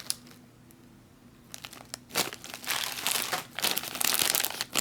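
Silver foil MRE food packages crinkle and rustle, faint at first and then building into loud, close bursts of crumpling.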